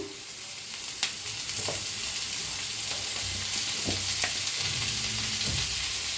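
Garlic and cashews sizzle and fry in oil in a pan, with a steady crackling hiss running throughout and a few soft stirring knocks.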